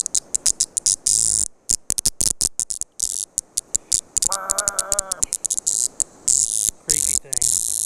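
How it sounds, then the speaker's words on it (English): Cicada buzzing loudly up close in rapid pulsing bursts, broken by brief silences, with a short rasping trill in the middle. "That is a cicada."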